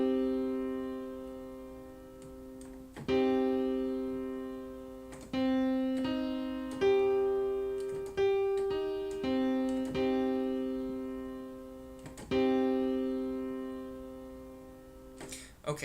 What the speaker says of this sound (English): Okay, so that's the sound of a minor triad.